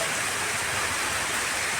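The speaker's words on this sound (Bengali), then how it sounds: "প্রায় আধা ঘন্টা থেকে বৃষ্টি হচ্ছে বৃষ্টি এখনও কমবে বলে কিছুই মনে হচ্ছে না" Heavy, steady rain falling on a village farm, a dense even hiss with no breaks, moderately loud and continuous with no other sounds standing out.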